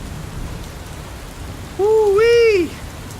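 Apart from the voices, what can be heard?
rain sound effect in an audio story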